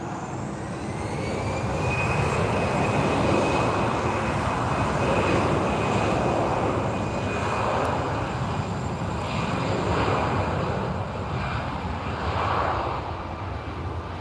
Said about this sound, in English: So Sadiq, this is Lisbon Airport in Portugal.